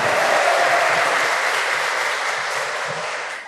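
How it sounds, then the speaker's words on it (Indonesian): Indoor audience applauding after a church choir competition result: dense, steady clapping from a sizable crowd, loud and sustained throughout, easing slightly at the end with no talk over it. "Kita beri tepuk tangan."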